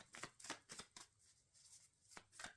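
A deck of tarot cards is shuffled by hand, soft riffling and sliding bursts in an uneven rhythm, faint and close with no talking.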